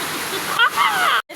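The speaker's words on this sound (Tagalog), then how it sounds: "Grabe lakas ang ulan. Grabe din tulo ng bahay namin." Heavy rain pours down in a steady, dense hiss of falling water, with a voice briefly audible over it before the sound cuts off abruptly near the end.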